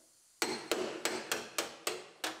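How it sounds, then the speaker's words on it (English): A painter's 5-in-1 tool is struck to break spot welds loose on a Honda CR-V B pillar, seven sharp metallic hammer blows landing at an even, quick rhythm, close and loud. "Break all of our spot welds loose."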